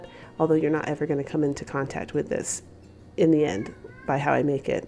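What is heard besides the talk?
cat meowing in the background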